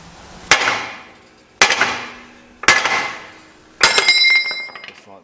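A hammer striking front suspension parts on a Toyota Prado 150 during a Dobinsons suspension upgrade: four sharp metallic blows about a second apart, close and loud, each ringing briefly.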